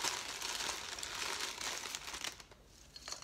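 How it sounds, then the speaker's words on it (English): Crinkle paper shred rustles and crackles steadily at close range as it is stuffed into small candy apple favor boxes, fairly soft with no talking. "we're going to fill them up with some crinkle."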